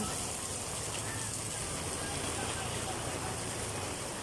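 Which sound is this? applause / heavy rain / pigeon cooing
heavy rain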